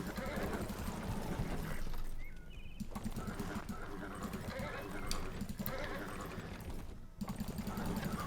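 Horses in the Age of Empires: Definitive Edition game neighing amid a busy mix of game effects and background music, with short whinny-like calls rising in the middle of the steady clutter.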